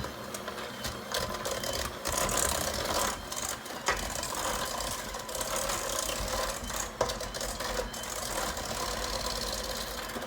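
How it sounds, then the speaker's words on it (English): Electric hand mixer whirring steadily through vanilla cake batter, a continuous buzzy motor drone with rattling, clicking texture as the beaters are moved around the bowl, close and fairly loud with no talking. "This is why I like to use my hand mixer, because I can move it around to wherever I need it to go."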